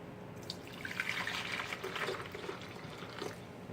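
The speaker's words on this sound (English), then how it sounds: "now I'm going to pour in my coffee" Freshly brewed coffee poured into a container over a lump of butter, a steady liquid trickle and splash running close by for several seconds with no talking.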